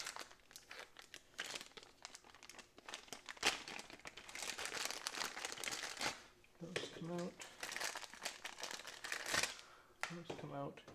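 Plastic bag of wheels for a Heatstar portable propane cabinet heater crinkles and rustles up close after a zip tie is cut, with irregular crisp crumpling throughout and a voice speaking briefly in places.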